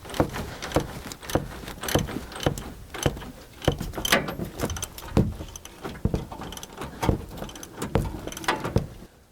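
Bolts on DJM front suspension arms being tightened in a garage, a rapid run of sharp, close metallic ratchet clicks coming in irregular bursts, with no talking.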